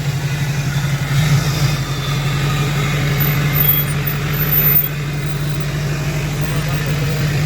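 A diesel pickup truck idles and creeps slowly in reverse while preparing to tow a removed Duramax cab, a steady low engine drone throughout with a slight surge early on.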